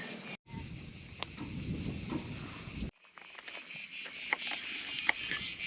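Cicadas in June at an outdoor cookout in nature keep up a steady, shrill chirring drone that stays loud and continuous throughout, with a brief dropout near the start and scattered small knocks underneath.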